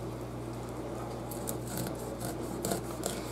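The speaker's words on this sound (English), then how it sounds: "you need to cut it off the cob" Knife strokes cut corn kernels off the cob in a kitchen, a series of quick, close rasping scrapes in short bursts over a steady background hum.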